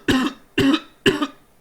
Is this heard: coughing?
yes